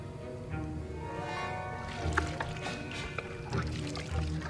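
Drops of juice drip into a potion in the Hogwarts Legacy video game, a few light liquid plinks over soft game ambience.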